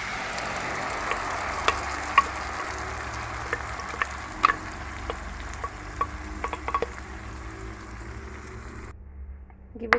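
A tomato mixture sizzles in a pan over a low flame, giving a steady soft crackle with scattered ticks and faint stirring clinks, then quiets near the end.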